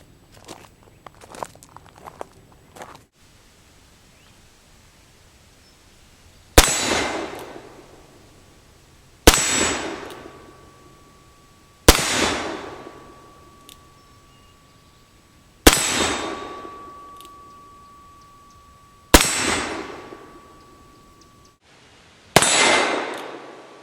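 Pietta Remington New Model Army black-powder revolver loaded with round balls, firing six spaced shots, each a sharp crack followed by a ringing clang from a steel target, with quiet handling noises before the first.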